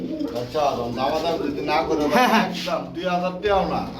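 Bombay pigeons coo close by in low, throaty, rolling calls that overlap and continue steadily without a break.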